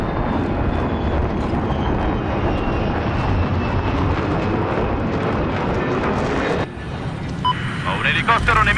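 An enemy helicopter in the Battlefield 4 video game gives a loud, constant engine roar that fills the scene and shifts near the end, while voices talk over it.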